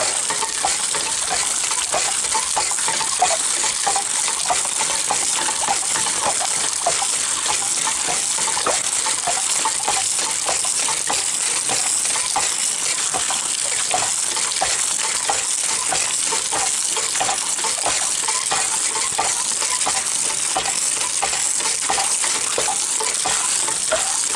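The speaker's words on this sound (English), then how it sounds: "A lot of water moving to get it all out." Water rushes steadily out of a tank as sediment is flushed from it in a basement, a loud, continuous broadband gush that holds at the same level throughout with no talk over it.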